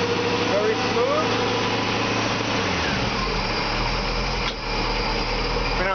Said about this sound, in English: Right now it's idling.